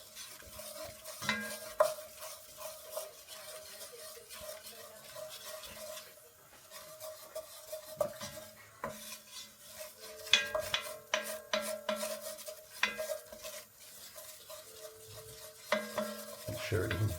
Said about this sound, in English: going to combine that well and cook this out for a couple of minutes to form our like a roux base